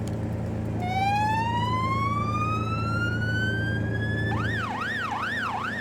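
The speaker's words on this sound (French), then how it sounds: "Sirène." A police armored truck's siren starts with a long rising wail that climbs steadily, then switches to a fast up-and-down yelp, loud and close over a steady engine rumble.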